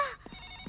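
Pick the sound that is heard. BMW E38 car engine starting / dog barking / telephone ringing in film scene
telephone ringing in film scene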